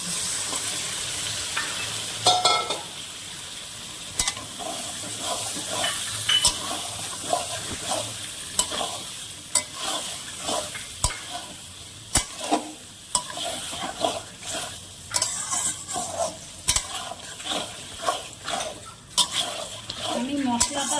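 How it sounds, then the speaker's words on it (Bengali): Yogurt-marinated chicken frying in a pot for chicken pulao, with steady sizzling and repeated scraping stirs against the pot throughout, close and fairly loud. "এবার আমি দশ মিনিট যে চিকেনটাকে ম্যারিনেট করে রেখেছিলাম টক দই দিয়ে ওটা দিয়ে দিচ্ছি"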